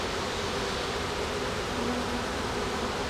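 Dense, steady buzzing of a honeybee swarm around an open beehive, a continuous close drone that holds at constant loudness throughout with no speech.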